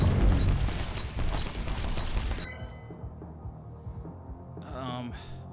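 Incendiary carpet bombing in Waifu Mechs, a burst of heavy booming explosions that rumbles loudly and then drops to a lower roar, with a voice talking over it.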